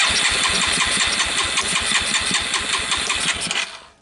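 A Suzuki Quadrunner LT230 shaft-drive ATV engine cranks hard and fast on the starter with the choke pulled out, a loud, rhythmic chugging that fails to catch and then cuts off near the end.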